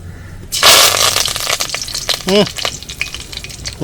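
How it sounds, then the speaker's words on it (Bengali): Nigella seeds and curry leaves hit hot oil with a sudden loud burst of sizzling, then keep spitting and crackling in quick pops for several seconds. "এবার অল্প একটু কালো জিরে তেলের মধ্যে দিয়ে দেবো। একটু কারি পাতা দিয়ে দেবো।"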